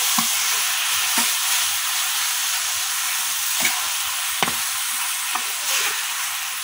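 Papaya pieces stirred into hot caramel in a pan, a steady bright sizzle and hiss with soft scraping stirs and occasional light knocks of the spoon, close and continuous.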